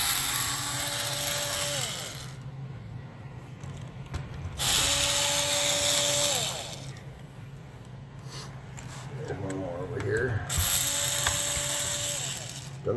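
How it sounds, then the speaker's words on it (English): A power screwdriver whirs in short repeated bursts while backing short screws out of the underside of an HP 15.6-inch laptop, with a few quiet clicks between runs. "So we're going to take out these few screws under here."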